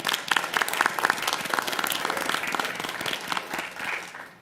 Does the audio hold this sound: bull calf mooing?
no